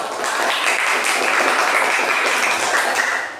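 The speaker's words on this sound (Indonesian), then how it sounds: "Nah, tepuk tangan dulu buat kelompok." Applause from a class of teacher trainees for a discussion group, a steady dense patter of hand claps that holds evenly throughout before easing at the end.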